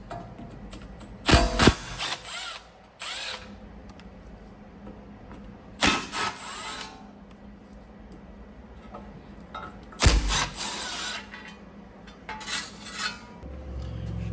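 A ratchet backs out the four T30 screws holding the brake dust plate on an Audi A5, giving several separate bursts of close metallic clicking and rattling with quiet pauses between them.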